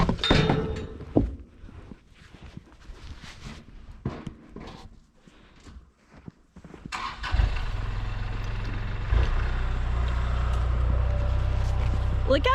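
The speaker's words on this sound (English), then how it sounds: "I'll drive the tractor, and we'll show you how we put this in the feeder." A farm tractor engine is started and settles into a loud, steady idling rumble close by, after some thumps and rustling at the start.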